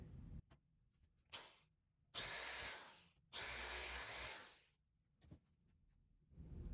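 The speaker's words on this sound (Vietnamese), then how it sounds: "Ok, tôi sẽ dùng mũi khoan này." Electric drill boring a hole in the plastic case of a Sony CFS-W338 radio cassette player, two loud sustained bursts of drilling with shorter starts and stops between, close up, no talking.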